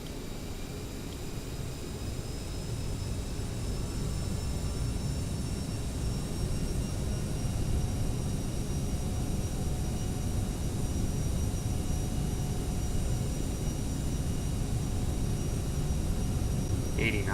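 Steady broadband roar of airliner engines in the Prepar3d flight simulator, a SkyWest jet ready to fly from Detroit, droning evenly and loudly throughout with no break.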